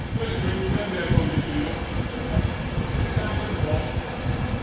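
An HST train pulls into York station on the East Coast Main Line with a steady low rumble of wheels and a sustained high-pitched squeal running through the whole arrival.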